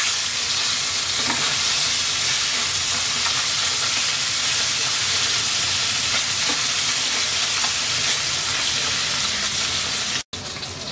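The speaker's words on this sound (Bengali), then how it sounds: "মাছের 1 পিঠ ভাজা হয়ে গেছে, এবার উল্টিয়ে দিচ্ছি।" Koi fish sizzling in two tablespoons of hot oil in a wok, a steady loud crackling hiss that runs unbroken with scattered pops and a brief cut near the end.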